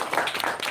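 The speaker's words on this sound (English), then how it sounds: "Can we give a big round of applause for Mr." An audience at the Malaysia Auto Lifestyle Festival 2025 applauds, a brief, dense wash of many hands clapping at moderate loudness.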